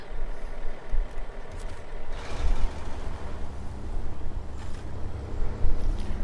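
A heavy truck in SnowRunner strains with a deep, steady engine rumble while winching another vehicle, with the low drone holding constant and occasional mechanical thumps and surges rising through it.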